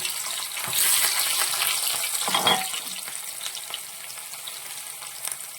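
Ginger and garlic sizzle in hot oil in a pan for a bitter gourd pickle, a hissing fry that swells when the pieces go in and then settles into a quieter, steady crackle.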